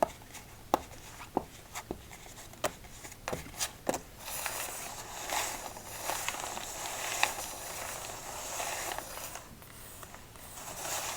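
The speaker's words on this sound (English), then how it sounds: "let's do a nice casino shuffle to start" A deck of playing cards riffles and snaps in a series of quick crisp flicks during a casino shuffle, then a longer soft rustling shuffle follows, close and fairly quiet.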